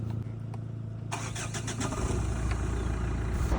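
Chrysler car engine starting after an engine installation, cranking briefly then catching into a steady, close idle with a rising mechanical rumble.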